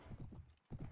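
Horse hooves clip-clop in quick, even beats in Mount & Blade: A Clash of Kings, close and clear, with a short gap before the rhythm resumes.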